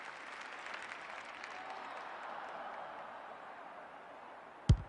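Stadium crowd applause and cheering from the AFL 26 football video game, a steady broad roar of clapping that holds throughout, with a sharp brief knock near the end.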